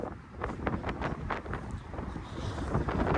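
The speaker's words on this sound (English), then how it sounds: "oh my god, it's windy." Gusty winter wind buffets the microphone in rough, rumbling bursts on Yonge Street near downtown Toronto, loud and close, with no talking.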